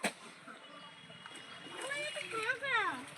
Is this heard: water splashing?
yes